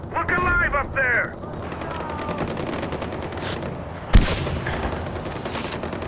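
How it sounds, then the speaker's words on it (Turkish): Gunfire in Far Cry 4 at an airfield: a loud burst of automatic shots with a sharp single bang later, mixed with game voices shouting and mechanical clatter. "I'm taking fire!"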